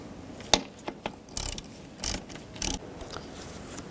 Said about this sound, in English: Loosen up that bolt.